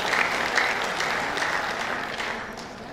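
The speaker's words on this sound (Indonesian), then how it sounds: "Tepuk tangan ke Kota Malang." Steady applause from an audience at a Malang city development planning meeting, filling the whole moment at an even level with no voices over it.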